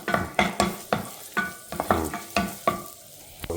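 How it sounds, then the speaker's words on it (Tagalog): Garlic frying in hot oil in a home kitchen pan, with a steady sizzle broken by repeated stirring scrapes at a regular rhythm, close and moderately loud, and no talking. "So lagyan ng bawang. Gisa-gisayin ng konti."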